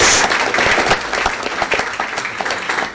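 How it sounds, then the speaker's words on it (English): Audience applause at a public school board meeting in Peoria, a dense wash of clapping from many hands that stays steady and loud for the whole stretch before easing slightly near the end. "If we could give them a round of applause"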